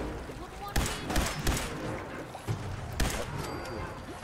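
A player's weapon fires in Fallout 4: about five sharp gunshots at uneven intervals, fairly close, over a constant bed of in-game ambience.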